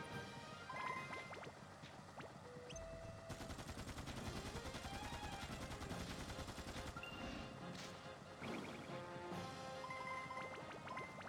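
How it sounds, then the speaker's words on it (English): Rapid Gatling gun fire from Dark Cloud 2 rattles in dense, continuous bursts, loud and close, layered over game music and effects for most of the stretch. "Let's use the Gatling gun."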